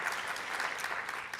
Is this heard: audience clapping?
yes